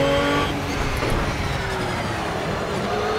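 An Aston Martin V12 Vantage GT3 race car in the game Project Cars, its engine a loud, continuous drone with gear shifts audible as shifting tones, heard alone throughout.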